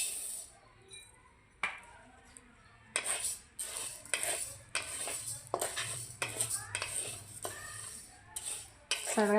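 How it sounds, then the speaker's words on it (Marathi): Urad dal being dry-roasted in a pan on low heat, with repeated scraping and clinking of a spatula against metal in a steady stirring rhythm, close and fairly quiet. "उडीद डाळ भाजू आता."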